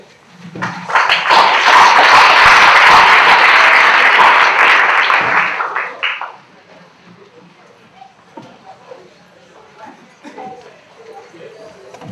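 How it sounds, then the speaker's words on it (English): An audience of academics applauds at a health inequality strategy session, a loud, dense round of clapping lasting about six seconds before cutting off abruptly, followed by quiet room sounds and faint scattered noises. "We should thank all academics for the round of applause."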